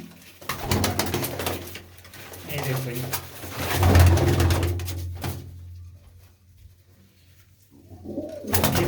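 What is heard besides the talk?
pigeons cooing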